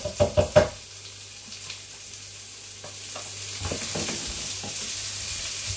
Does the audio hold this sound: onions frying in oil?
yes